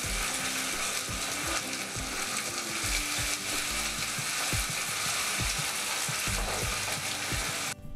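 Soaked, drained chana dal hits a hot tempering of oil with curry leaves for temple-style pulihora and fries with a loud, steady sizzle. Clicks and scrapes from stirring repeat throughout.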